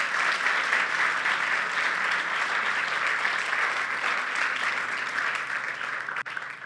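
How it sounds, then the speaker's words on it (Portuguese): A congregation at an Easter service applauds the people who helped prepare the supper, with dense, even clapping filling the room and holding steady throughout with no break. "Então vamos dar uma salva de palmas para essa galera aí"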